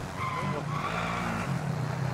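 Car tires skid and squeal in a video game as an engine drones along, the screeching rising and falling through the short burst with a faint voice barely present underneath.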